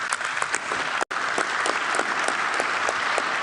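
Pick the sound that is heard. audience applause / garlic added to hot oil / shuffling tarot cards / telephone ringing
audience applause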